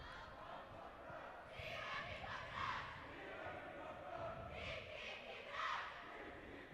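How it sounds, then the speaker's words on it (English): High school basketball crowd at Bingham High, the Bingham student cheer section led by cheerleaders and a freshman squad chanting and cheering in rising rhythmic bursts, faint and distant in a limited-capacity gym. "the Bingham cheer section led by their cheerleaders and looks like their freshman squad bringing a little life into the crowd"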